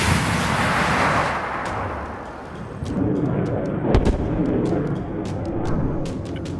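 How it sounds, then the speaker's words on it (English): A military missile launch, a deep roaring blast that swells and fades, followed by a sharp boom and scattered crackling bursts, loud and rumbling with no voices. "Missile away!"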